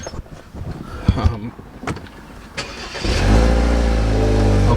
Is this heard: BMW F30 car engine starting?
yes